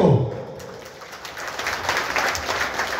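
An audience at an open-air Odia jatra theatre performance in Angul claps together, a dense, steady patter of many hands that swells after a quiet start and holds at moderate loudness from a distance.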